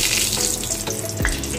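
Dried red chilli and cumin seeds for a jackfruit and prawn curry sizzle in hot oil, a brief burst of loud crackling and hissing close by, with no talking.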